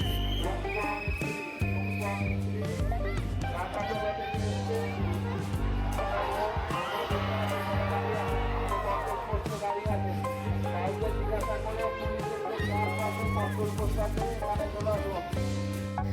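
A dense, large crowd packs a Durga Puja pandal in Kolkata, a continuous hubbub of many voices and shuffling with children audible, while nearby people talk over it throughout.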